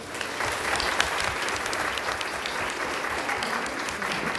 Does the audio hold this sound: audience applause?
yes